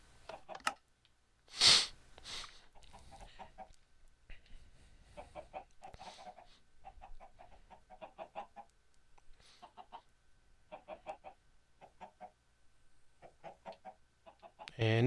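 Blocky Minecraft chickens cluck in short repeated bursts through much of the stretch, with a louder burst near the start, fairly close and clear in a quiet game setting.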